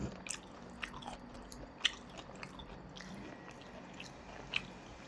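Close, crisp chewing and biting of rad na noodles with greens, with a few sharp crunchy clicks over a soft background, no talking.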